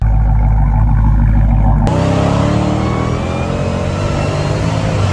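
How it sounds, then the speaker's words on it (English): A Dodge Hellcat with a mid-pipe exhaust idles with a deep rumble, then abruptly revs hard, its engine roar and high supercharger whine rising loud and close for several seconds. "the supercharger whine and the sound of this car"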